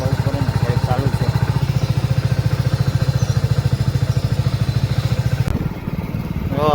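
A motorcycle engine chugs loudly and close in a fast, even pulse, then its sound shifts briefly near the end.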